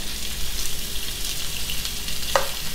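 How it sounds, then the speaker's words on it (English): Sausage sautés in a pan while it browns on all sides, giving a steady close crackling sizzle with a brief sharper pop near the end, and no talking. "you're just gonna saute that until it's a little brown on all sides"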